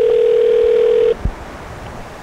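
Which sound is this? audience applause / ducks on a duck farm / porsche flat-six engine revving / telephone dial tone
telephone dial tone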